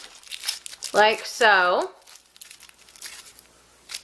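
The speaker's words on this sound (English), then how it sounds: "you will take your aluminum foil, make whatever size snakes you want" Aluminum foil crumpled by hand into a small snake shape for Medusa makeup effects, giving close, crisp crinkling at the start under a short spoken phrase, with a few faint rustles afterward.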